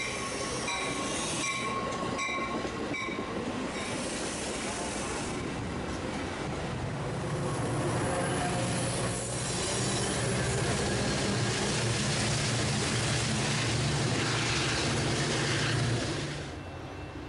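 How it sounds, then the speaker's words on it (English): An inbound Metra passenger train hauled by two locomotives rolls past, a loud sustained rumble of wheels and cars with squealing flanges and a low engine drone building midway, then fading near the end. "Next up, we have a Metra inbound,"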